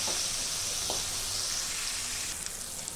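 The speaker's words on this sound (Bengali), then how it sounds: "ভালো করে ভেজে নেব।" Pieces of kakrol (teasel gourd), seasoned with turmeric and salt, fry in hot oil with a faint, steady hiss and a few soft pops.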